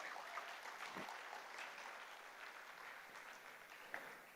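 Faint, steady applause with some cheering from an audience at a university orientation event, greeting alumnus Vishak Nair; the clapping stays even and distant throughout without voices over it.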